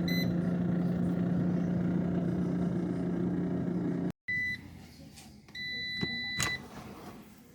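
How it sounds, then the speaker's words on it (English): An air fryer set to 350 degrees runs with bacon-wrapped jalapeños inside. It gives a steady fan hum, which cuts out briefly partway through. Several short electronic beeps follow near the end. "I'm going to place these in the air fryer for, we'll start off with 10 minutes."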